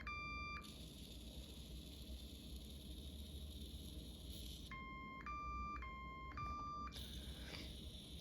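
An Ozobot robot plays an alarm of sharp electronic beeps, one short tone and then a rapid burst of four stepped beeps, clear and fairly faint over a soft background hiss.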